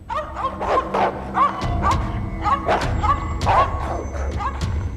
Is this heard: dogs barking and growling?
yes